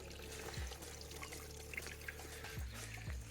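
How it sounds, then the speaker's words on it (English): Water running down from steep hills into a stream at a prospective hatchery site, a faint continuous trickle and flow heard outdoors with low rumbles beneath and no talking. "looks like there's water coming down here as well, so it's joining that stream that we saw right at the beginning."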